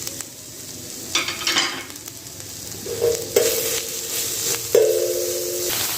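Garlic and ginger paste frying in a pan for a spicy tawa chicken, a steady close sizzle with periodic scraping stirs and louder hissing surges as the paste is moved around.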